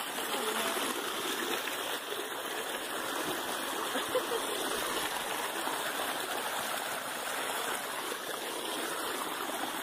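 Rainwater from the previous day's rain runs down a mountain trail toward Pico do Selado near Monte Verde, a steady, close rushing and gurgling flow that fills the whole clip without pause.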